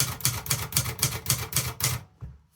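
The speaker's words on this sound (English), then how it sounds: "it was quite standard to strike the L key to indicate a number 1 on the typewriter" Manual typewriter keys struck in a steady run of about eight crisp, evenly spaced clacks, close and fairly loud, then a short pause and one last softer strike.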